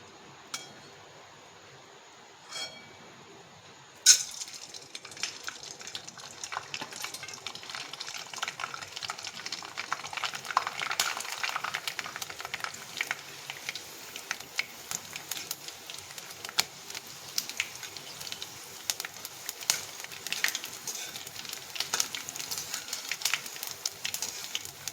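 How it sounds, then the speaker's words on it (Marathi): Chivda snack frying in hot oil as an Ekadashi fasting dish, a steady dense sizzle with soft crackles and occasional clinks of a stirring spoon, starting after a few quiet seconds with brief taps. "आता आपण हे बाकीचं तळून घेणार आहे."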